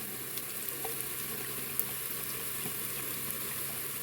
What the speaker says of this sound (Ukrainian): ось так перемішую, трішки підсмажую